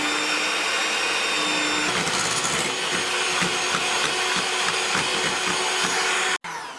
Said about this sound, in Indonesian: kita kocok margarin, gula dan telurnya selama 2 menit sampai sekiranya lembut ya